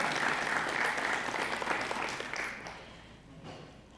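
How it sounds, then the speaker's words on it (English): A crowd claps steadily at first, then the applause thins out and fades toward the end. "we'll clap for her anyway"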